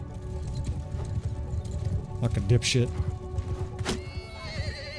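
Horses trot and gallop across a medieval battlefield in Mount & Blade II: Bannerlord, steady hoof clatter beneath someone talking, with a few brief animal cries rising over the din.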